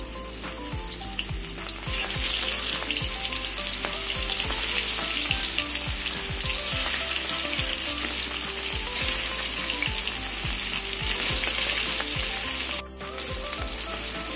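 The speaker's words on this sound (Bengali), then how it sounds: "তেল গরম হয়ে গেছে, মাছগুলো তেলে দিয়ে দেবো।" Pieces of fish fry in hot oil in a wok, giving a loud, dense sizzle that runs unbroken throughout with rapid popping underneath.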